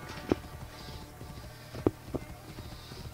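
Horse hooves in the video game Assassin's Creed Origins, a few soft, sparse clip-clop hoof thuds over a quiet ambient background.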